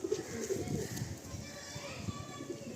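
Madrasi pigeons coo softly in the background while children play and people talk over a busy, noisy scene.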